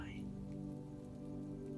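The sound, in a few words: spattering rain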